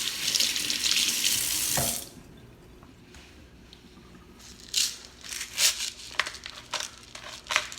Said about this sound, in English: I'm gonna rinse my hands off here.